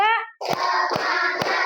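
After a short voiced call, a group, likely children in a classroom, claps three evenly spaced, sharp beats of a tepuk semangat rhythm over loud, sustained chanting voices.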